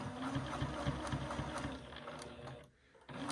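A sewing machine stitches slowly through thick fabric layers, giving a rhythmic mechanical whirr and thump that drops away briefly near the end before resuming.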